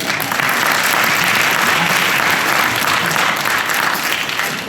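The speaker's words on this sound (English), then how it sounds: "I think that deserves applause." An audience bursts into loud, sustained applause at a 30-year anniversary event, the dense clapping steady and close throughout the few seconds with no pause.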